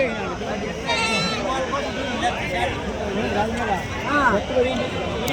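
Goats and young kids bleat repeatedly at a crowded Angallu sheep market, their wavering cries rising over a steady hubbub of nearby voices and market chatter.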